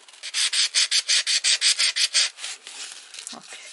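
A metal lock pick tip is rubbed back and forth on sandpaper, producing a quick, even series of about a dozen close scratchy strokes, then slower, softer rubbing and a faint handling sound.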